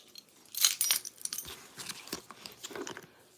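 A heavy bunch of keys jangles as it is pulled from a purse, bright metallic clinking close by in a short burst with no talking.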